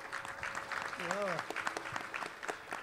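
Audience applause at a music concert honouring a veteran singer, a steady patter of clapping from the hall with a voice briefly sounding over it.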